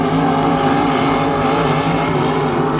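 H1 Unlimited hydroplane racing boats at the Madison Regatta make a continuous, dense roar that stays loud and steady throughout, heard from a distance with no pause in the engine noise.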